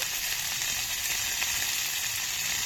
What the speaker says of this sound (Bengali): হলুদ গুঁড়ো ভালো করে ভেজে নেব